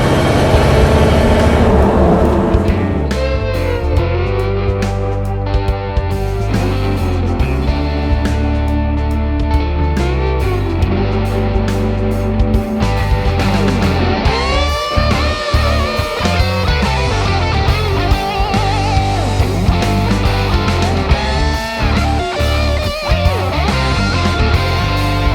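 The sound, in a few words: VW Beetle engine starting and running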